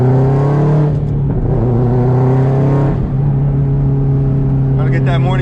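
A 2004 Subaru WRX STI engine drones loud and steady from inside the cabin, with a brief dip and recovery around the middle suggesting a downshift and rev; a voice speaks faintly near the end.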